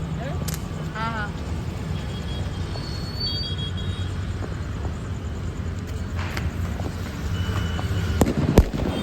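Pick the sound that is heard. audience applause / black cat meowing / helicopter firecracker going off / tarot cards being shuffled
helicopter firecracker going off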